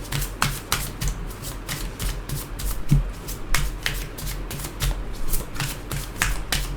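A tarot card deck being shuffled up close, with a steady run of crisp riffling flicks and rapid card slaps repeating throughout, no voices.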